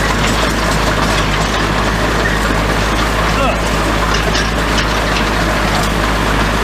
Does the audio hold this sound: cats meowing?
no